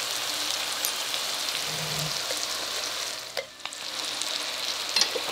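Potatoes sizzle and fry steadily in hot oil, stirred in a pan while making stuffed capsicum, a loud continuous crackle with a brief scraping stir midway and no talk.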